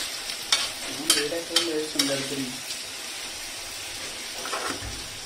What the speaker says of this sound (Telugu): ఇవి కాస్త గోల్డెన్ బ్రౌన్ వచ్చినంత వరకు డీప్ ఫ్రై చేసుకోవాలి